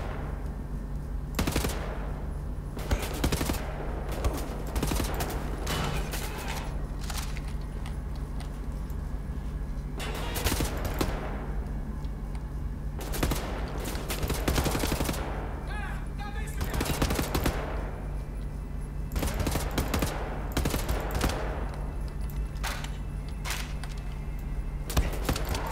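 Sustained gunfire with normal bullets in Wolfenstein: The New Order, repeated loud bursts of shots over a steady low hum, clustered in volleys across the whole stretch.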